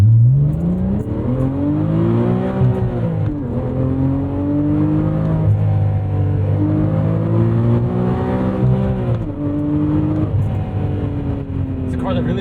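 A 2012 Porsche 987.2 Cayman R engine climbs through the revs in repeated pulls, pitch rising smoothly and then dropping at each shift. It is heard from inside the car, loud and continuous.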